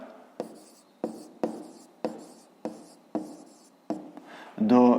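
Handwriting on paper comes as seven or so brisk, rhythmic pen strokes close up, followed by a brief louder burst at the end.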